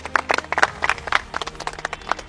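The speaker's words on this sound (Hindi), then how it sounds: "तालियों के साथ उनका स्वागत किया जाए।" An audience claps to welcome a minister at a patriotic ceremony in an action film, a brisk run of distinct, fairly close hand claps that comes in uneven bursts and carries on throughout.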